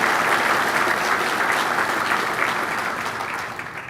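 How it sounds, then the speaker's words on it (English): An audience at a conference keynote event in Augusta gives sustained applause for the singers, dense clapping from a large hall crowd that holds steady and then slowly tapers off. "let's give our singers another round of applause"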